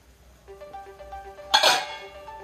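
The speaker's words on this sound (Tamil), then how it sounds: "இப்போ மூடியை திறந்துடலாம்." The lid comes off a metal pot of cooking mango pickle (six-taste pachadi) with one loud, close metallic clank and scrape midway, after a stretch of quiet kitchen hum.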